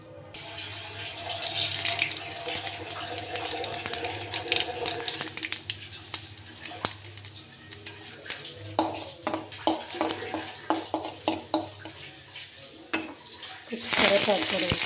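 Tempering seeds hit a splash of hot oil in a kadai on the stove, giving a steady sizzle that breaks into a run of sharp crackles and pops, ending in a louder hiss; a faint voice briefly sounds in the background.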